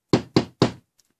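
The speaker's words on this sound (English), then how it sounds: "Hank Moody knocks on the door." Three sharp, evenly spaced knocks on a door in a scene from the TV show Californication, close and crisp, followed by near silence.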